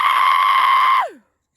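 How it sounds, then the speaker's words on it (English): A farm goat lets out one loud, sustained, human-like scream that slides downward at the end and cuts off, followed by a brief click. "Well, it's actually a goat."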